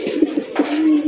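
Two male fancy pigeons of the racer or Giribaz type coo in a low, throaty rhythm, sounding close and steady through a short burst with soft pulses.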